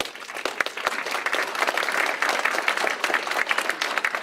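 Audience applause at the 2014 Feathers of Hope opening ceremonies, a steady burst of many hands clapping that fills the whole stretch at moderate level.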